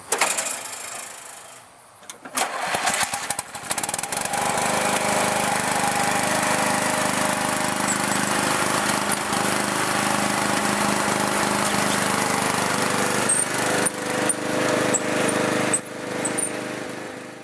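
A Murray 14.5 horsepower riding lawn mower engine starts after a brief sputter and runs loudly and steadily, a constant mechanical drone close by with no voices.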